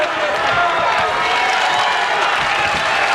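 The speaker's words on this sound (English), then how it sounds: "It's nice to see the crowd appreciative of the performance that these two guys have put on" A boxing crowd applauds and cheers two fighters near the end of a bout, a dense, loud, steady roar of clapping and voices, with commentary spoken over it.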